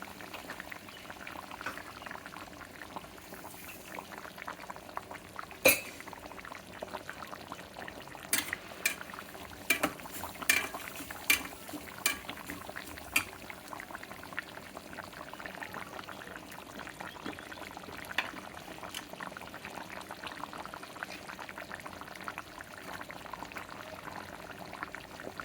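A pot of tomato curry with bottle gourd bubbles at a steady, soft simmer, with a few scattered clinks of a spoon or utensil against the pot and no voices.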